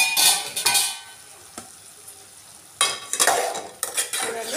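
Cauliflower curry is stirred in a pan over a low flame, with bursts of scraping and clattering from the utensil between quieter gaps and a faint simmering sizzle beneath.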